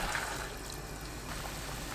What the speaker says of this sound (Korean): 물 1리터 넣고 센 불로 끓입니다.